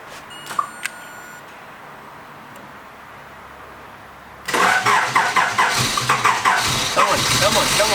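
A car with a 1980s Japanese remote starter: a few faint beeps and clicks, quiet stretch, then the engine abruptly cranks and catches, settling into a loud, rough running rumble close by.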